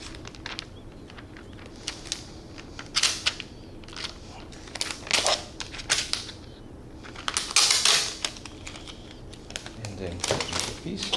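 A Roland GS24 vinyl cutter slices a piece of vinyl, giving quick irregular bursts of clicking, scraping and shuffling up close, with brief pauses between strokes and a few louder rustles near the end.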